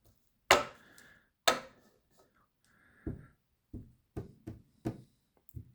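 A door being knocked on in a quiet room late at night: two sharp, loud raps, then a pause and a series of softer single knocks spaced irregularly.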